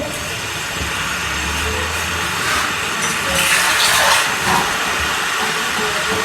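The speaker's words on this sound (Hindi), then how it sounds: "इसके अंदर मैं हाफ गिलास पानी का डालूंगी" Half a glass of water poured into a cooking pan of aloo gobi (cauliflower and potato), giving a broad, steady hiss that swells briefly in the middle before settling, with no talking.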